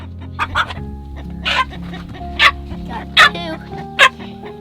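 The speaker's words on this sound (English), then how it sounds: "so I've got 2 chickens here, and Bella wants me to hold her" Farm chickens, including olive eggers, cluck and squawk near the coop in a series of short, sharp calls, with a dog also barking nearby and low background hum underneath.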